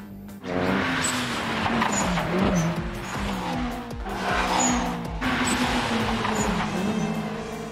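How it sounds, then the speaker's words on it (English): A turbocharged AE86 Levin engine surges loudly and continuously in an Initial D mountain race, its revving harmonics overlapping with squealing, skidding tires as the cars run close. "There goes that obsolete boom turbo of his."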